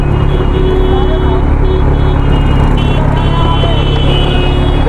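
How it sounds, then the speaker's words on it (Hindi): Heavy road traffic surrounds a Kawasaki Z900 superbike in heavy rain, with close vehicles producing a loud, unbroken rumble and roar. People talk throughout. "गाड़ी की आवाज़ भी आ रही है"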